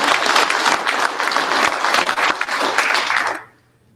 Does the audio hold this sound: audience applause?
yes